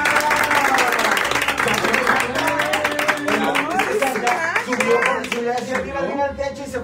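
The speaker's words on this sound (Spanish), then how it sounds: "El aplauso para Santa." A family at home claps for Santa as he leaves, steady close-up hand clapping running throughout, with excited voices and talking over it, tapering slightly near the end.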